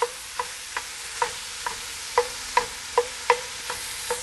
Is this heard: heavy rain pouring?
no